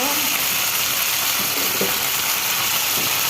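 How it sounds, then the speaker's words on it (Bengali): Steady, dense sizzling of onions frying with salt in hot oil, loud and close, with a few faint clinks of stirring. "আমি পেঁয়াজটা ভেজে নিচ্ছি লবণ দিয়ে"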